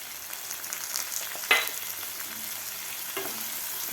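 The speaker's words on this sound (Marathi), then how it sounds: "टमॅटोसुद्धा आपल्याला थोडंसं फ्राय करायचं आहे" Chopped tomato and onion fry in a pan for sweet corn poha, a steady close sizzle with one sharp stir-scrape partway through and a softer one near the end; no one speaks.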